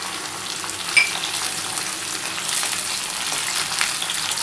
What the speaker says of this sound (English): Now we are going to fry our potatoes.